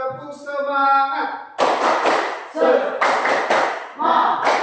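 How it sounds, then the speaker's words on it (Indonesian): A voice calls out briefly, then a group of children clap a rhythmic spirit clap in loud, sharp bursts of quick hand claps separated by short pauses. "Sekali lagi, tepuk semangat."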